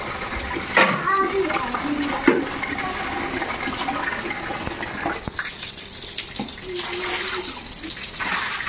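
Water splashes and washes across a room floor as it is sloshed from a bucket in a home, a steady watery wash with a few brief voices faintly heard near the start.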